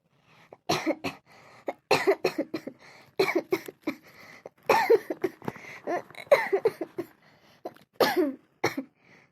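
Repeated bursts of harsh coughing in irregular fits, close and loud, with short pauses between the spasms.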